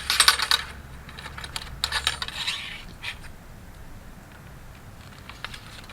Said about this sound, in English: put the rest of the charge down the barrel. Just stuff it. Draw the ramrod out.